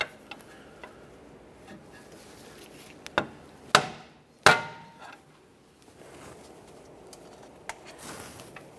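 A metal locking clip tab on the steering rack bellows of a Toyota Sienna is pried and snapped loose, giving a few sharp metallic clicks and cracks close by amid quiet handling noises.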